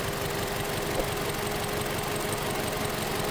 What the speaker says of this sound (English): I am running the car right now, and the car is not running good.